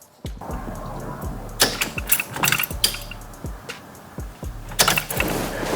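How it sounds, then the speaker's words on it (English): The ignition key turns on an LS-swapped Chevrolet Monte Carlo SS being checked for fuel leaks: close, repeated mechanical clicks and ratcheting whirs come in rhythmic bursts, and the engine never starts. "we just turning the key over"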